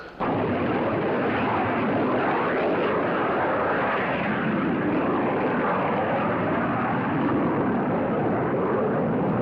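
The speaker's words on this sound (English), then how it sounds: "There's the plane." An airplane passes overhead with a loud, steady engine roar that fills the air and holds without a break, no voices over it.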